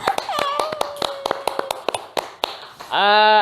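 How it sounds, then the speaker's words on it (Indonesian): A small audience claps for Teh Mala, scattered individual hand claps ringing out sharply and unevenly, close by, while a voice talks underneath, ending in a sustained tonal sound. "Tepuk tangan buat Teh Mala."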